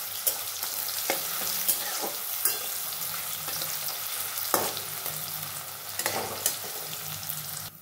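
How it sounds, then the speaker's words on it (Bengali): Chopped onion frying in hot oil until brown while being stirred, a steady close sizzle broken by sharp scraping clicks of the spoon against the pan, with no talking. "পেঁয়াজটাকেও খুব বাদামি কালার করে ভেজে নেব।"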